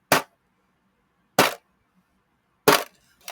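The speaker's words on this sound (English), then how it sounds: "normally in modern wrestling, the steps sound like this" Three sharp, loud metallic impacts ring out, evenly spaced about a second and a half apart with silence between, as a wrestler is thrown into steel ring steps.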